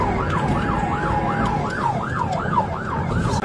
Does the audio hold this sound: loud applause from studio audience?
no